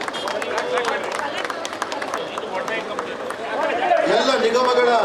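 Audience applause at a government welfare department event, a steady wash of clapping and crowd murmur that swells louder toward the end, with voices mixed in.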